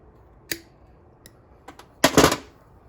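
Side cutters snip through replacement fuel line on an Echo string trimmer: a sharp click, a couple of faint ticks, then a louder crunching snap, close and with no talk.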